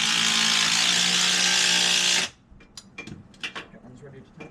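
A power tool runs steadily and loudly for about two seconds while bolting together the track of a snow cat outdoors in falling snow, then cuts off, leaving faint clicks and handling noises.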